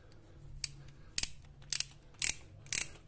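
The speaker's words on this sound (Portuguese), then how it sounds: "Estou usando uma catraca também para facilitar." Ratchet wrench with an extension loosening spark plugs on a CHT engine, heard as five short, close clicking ratchet bursts spaced unevenly over a quiet background.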